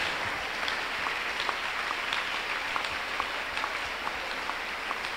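A church congregation clapping together during a Tuesday miracle service, a dense, steady roar of many hands that fills the room evenly for several seconds with no voices.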